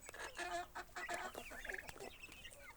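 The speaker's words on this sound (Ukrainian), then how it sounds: "Ось такий є пітушок. Теж гарний досить." A rooster offered for sale clucks repeatedly in a farmyard, a run of close, moderately loud calls with short pauses, heard alone with no talking.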